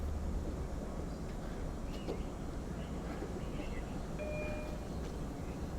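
A Long Island Rail Road passenger train of 12 Kawasaki C3 bilevel cars rumbles steadily past Westhampton station at night, a low continuous roar with faint squeals, heard from a moderate distance.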